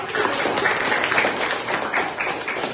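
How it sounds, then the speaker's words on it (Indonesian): Classroom applause from students in a nursing lecture, a steady dense patter of many hands clapping at moderate volume for about three seconds with no clear talk over it. "Tepuk tangan buat Novi"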